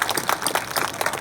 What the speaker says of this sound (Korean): 박수도 한번 주세요